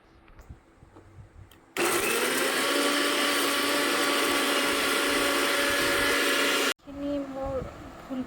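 A kitchen mixer grinder whirs loudly while grinding spices at home, a steady high-pitched motor roar of about five seconds that starts abruptly and cuts off, with quiet talk before and after.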